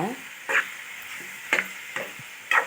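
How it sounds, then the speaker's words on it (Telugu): Raw prawns and drumstick pieces stirred with onions in a cooking pan, a quiet sizzle punctuated by four crisp scraping strokes of the spoon against the metal, close and clear. "ఒకసారి కలుపుకోవాలి పచ్చిరేలు వేసాక"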